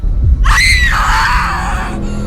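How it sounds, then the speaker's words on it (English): A woman screams in agony, one long, loud, strained cry that rises sharply and then trails off over a couple of seconds, heard close with no talking. "She screamed in agony as blood started to course out of her wound."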